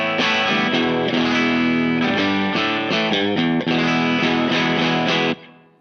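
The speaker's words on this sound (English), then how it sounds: "This is the Fender Hybrid II Jazzmaster made in Japan." Fender Hybrid II Jazzmaster electric guitar, made in Japan, played through an effects pedal, giving a loud, sustained distorted and chorused tone with strummed chords and note changes that cut off abruptly near the end.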